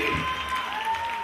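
A crowd at a live wrestling show cheers and claps in a brief, dense burst of applause with a few voices in the mix.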